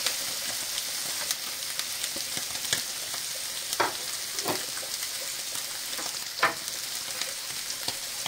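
Onion frying in hot oil with mustard seeds and cumin, for poha, makes a loud, continuous close sizzle broken by occasional sharp pops and stirring scrapes.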